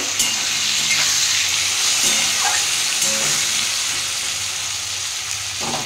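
Potato and tomato fry in a pan, a continuous close sizzle and hiss with occasional stirring scrapes and spits.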